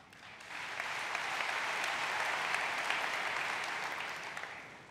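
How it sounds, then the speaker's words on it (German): Audience at a football club's annual general meeting breaks into sustained applause, a broad even wash of many clapping hands that swells, holds steady, and tapers slightly at the end. "Applaus"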